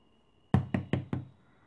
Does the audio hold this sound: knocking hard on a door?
yes